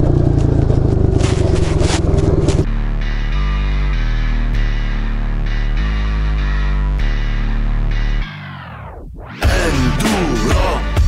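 A Kayo 110 quad bike is ridden close by, its small engine droning loudly and steadily with gear-like shifts in pitch, then dropping briefly to a falling whine before revving hard again.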